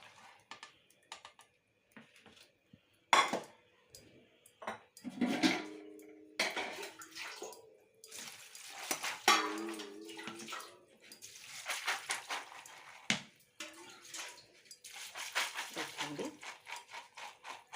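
Boiled chickpeas are rinsed in water, with irregular splashes and sloshing bursts, light clinks of a vessel, and quiet gaps between rinses.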